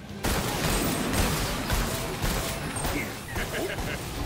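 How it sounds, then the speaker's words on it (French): Shotgun blasts from the video game Space Punks, a rapid run of loud, dense shots across several seconds with game effects layered over them. "Fusil à pompe qui manque un petit peu de munitions dans le barrière"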